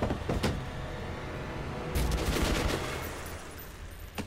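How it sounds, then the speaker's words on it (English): Gunfire exchange in Metro 2033 as two characters shoot each other, a few sharp shots standing out from a dense, moderately loud background with a louder burst in the middle. "And they both shot each other."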